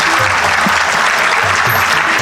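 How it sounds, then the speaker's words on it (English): Sustained audience applause at a school annual day prize distribution, a dense steady wash of many hands clapping at close range, loud and continuous with a faint low hum beneath. "Please keep clapping"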